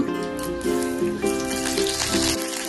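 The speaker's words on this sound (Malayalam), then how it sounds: "കടുക് പൊട്ടിയതിനു ശേഷം വറ്റൽമുളക്, കറിവേപ്പില ചേർത്ത് കൊടുക്കാം." Mustard seeds, dried red chillies and curry leaves hiss and crackle in hot coconut oil for a coconut milk rasam, a steady close sizzle with tonal ringing and a few soft pops, no voices.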